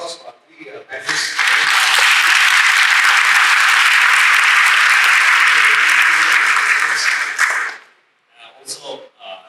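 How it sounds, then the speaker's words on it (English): An audience at a legal-themed panel event applauds three panelists with a dense, even burst of clapping that starts quickly, holds steady for about six seconds, then fades. Scattered voices are heard before and after. "can I have a round of applause for three panelists?"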